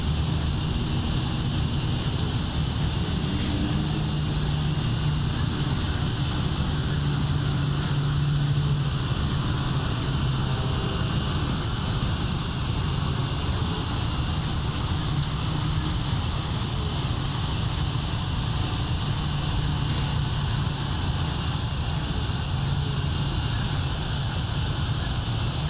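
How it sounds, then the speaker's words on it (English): A small aircraft in a flight simulator game rolls down runway 33 for takeoff in South Korea, its engine holding a steady, loud drone with a constant whine throughout and no voices. "Right, okay, Charlie, Mike, taking off runway 33."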